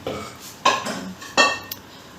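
Cooked green gram being tipped into a metal vessel: two sharp metallic clanks of pot and utensil, with scraping between them and a faint final clink, close and fairly loud.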